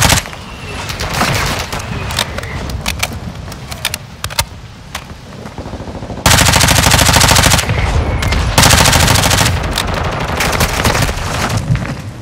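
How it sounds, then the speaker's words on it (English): Mortar strike explosions in Call of Duty Modern Warfare, with loud, dense rumbling booms and blasts mixed with gunfire that swell into a sustained barrage. "Mortar strike."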